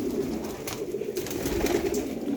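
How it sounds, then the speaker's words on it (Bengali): Pet pigeons coo continuously in a small home coop, a close, steady, low burbling with no talk. "এটা কি তার কবুতর উড়ে যাইতেছে কিনা।"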